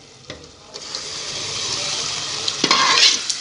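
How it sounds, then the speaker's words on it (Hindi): Saag greens of spinach and amaranth added to a hot tempering in a pan, a rising hiss of sizzling with scraping stirring, growing louder and busier toward the end, no talk. "अब यहाँ पे हम साग डालेंगे।"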